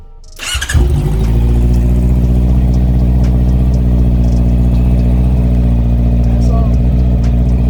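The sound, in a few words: Honda CBR650R motorcycle engine starting and running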